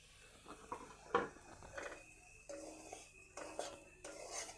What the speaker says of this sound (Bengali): এবার আমি ভালো করে সুজিটা এই ঘিতে ভেজে নেব